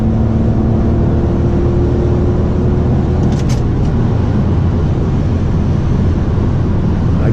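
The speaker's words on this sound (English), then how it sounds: "the way how this car sounds when it accelerates, especially in third gear, is absolutely amazing" A 2004 BMW E46 330i ZHP accelerating in fourth gear, its exhaust giving a steady, loud, droning low rumble heard from inside the car, with no talking.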